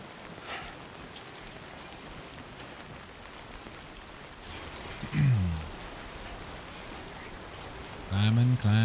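Steady rain in Death Stranding 2 hisses as a continuous wash, with water running nearby, and brief tonal game sounds break through near the end.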